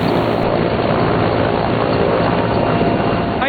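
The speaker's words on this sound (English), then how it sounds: "Our crew is on board the Indian Air Force special chopper" Indian Air Force helicopter in flight over flood-hit Jammu and Kashmir, heard from on board as a loud, steady roar of engine and rotor that fills the whole stretch without a break.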